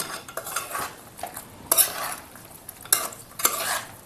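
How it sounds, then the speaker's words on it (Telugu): A spoon stirs raw Godavari prawns with chana dal curry in a pan, producing scraping strokes and several sharp metallic clinks against the pan over a faint sizzle, with no talking. "ఇప్పుడైతే కలిపేసుకుందాం. ఇది లైట్గా తిరిగేద్దాం."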